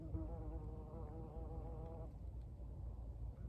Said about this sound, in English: I don't know what that is exactly, but anyway, it's pretty big.